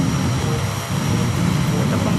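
A toy or game airplane climbs with a steady, broad engine roar that holds constant and loud for a couple of seconds, with no talking over it.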